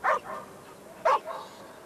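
A dog barking in the VR video game Arizona Sunshine 2, two short, separate barks about a second apart, each followed by a softer echo-like trail, fairly close and with no talk over them.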